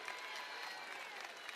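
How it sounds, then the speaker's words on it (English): Basketball game crowd gives a clapping ovation, dense steady applause heard from a distance and quite faint, holding evenly throughout. "clapping ovation"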